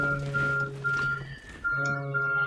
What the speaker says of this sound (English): And that alarm's telling me that an hour is up.